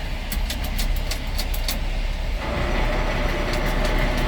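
Engine of a 1937 Ford 2-ton dump truck idling, a steady loud mechanical rumble with a rattling buzz and some metallic ticking throughout, no talk.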